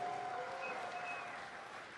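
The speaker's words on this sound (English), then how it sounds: "Also, give a round of applause, guys, for Day 9 here all weekend long" Crowd applause at BlizzCon's StarCraft II grand final, a dense, steady clapping roar from a large audience that fills the hall and holds evenly throughout.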